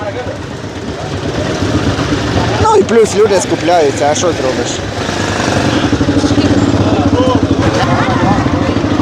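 Cars and motorcycles idle and rumble in a traffic jam at a crowded bazaar in Hurghada, Egypt, a loud continuous engine drone running beneath people talking close by.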